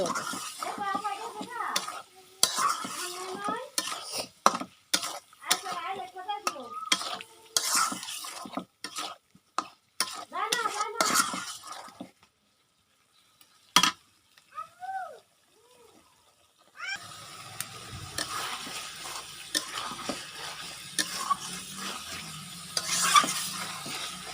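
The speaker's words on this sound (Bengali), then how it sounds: "মাছটাকে একটু ভালোভাবে কষিয়ে নিব, তারপরে আলু দিয়ে দেব।" Fish pieces are stirred and sautéed in a pan, with scraping and clattering strokes and sizzle. A voice talks over parts of it, and there is a brief quiet gap midway before steady frying resumes.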